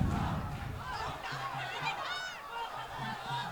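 Spectators at a schools rugby match between Isipathana College and Trinity College at CNFC cheer and chant in a steady, loud roar from the stands.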